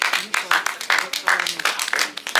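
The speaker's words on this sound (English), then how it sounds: "Guys, please clap for him" An audience claps for a student in a rhythmic series of bursts, fairly close and steady, with voices talking in between.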